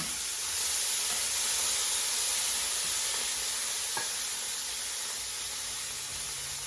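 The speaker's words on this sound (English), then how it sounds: "So you've got a nice little sear right here. And so you're just gonna turn it." Pork tenderloin sears in a hot pan as it is turned, a loud continuous hiss and sizzle with one small clink partway through, no voices.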